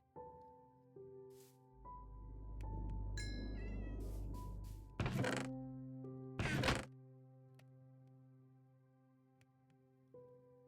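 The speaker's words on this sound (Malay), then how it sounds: "Kucing!" A cat meows in the Minecraft video game, a few separate cries spread across the clip, each fairly loud and close. They play over steady tonal game music, with a dull thunk near the middle.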